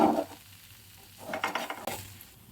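Potato slices for a Kerala-style potato fry sizzle in a hot pan while being turned over one by one, with soft scraping and stirring noises over a steady frying hiss, including a brief metallic clink near the end.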